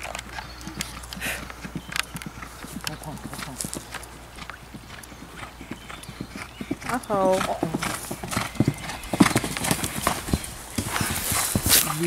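A horse's hooves clip-clop steadily on a hard surface, close by, with the horse whinnying partway through while people talk in the background at an eventing club competition.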